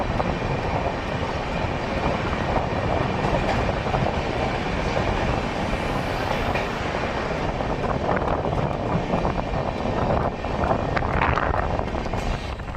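Vasco–Yeshwantpur Express on its Goa to Bengaluru run, heard from on board as a steady, loud, broadband rumble of wheels and carriages that continues without a break and with no voices.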